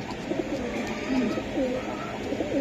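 A male Pakistani Teddy pigeon coos softly nearby in a few short rolling phrases over a quiet background.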